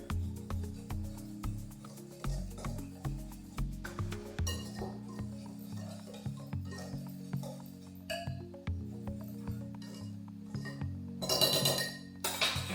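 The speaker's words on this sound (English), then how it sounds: "let's stir this together" A spoon clinks and scrapes against a bowl while ingredients for a vegan apple cobbler are stirred together, a close, repeated rhythm of light taps with a brighter flurry of clinks near the end.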